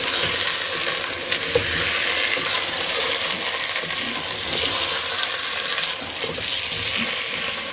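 Garlic and ginger paste frying in a pot, a dense continuous sizzle with scattered small scrapes and clinks from stirring, loud and close throughout, with nobody speaking.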